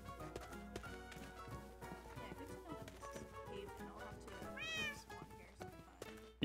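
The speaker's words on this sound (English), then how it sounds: "A lot of cats." Cats meowing in a Sword Art MMO video game town, several short faint mews scattered over quiet background game music with light tapping, one rising meow standing out near the end.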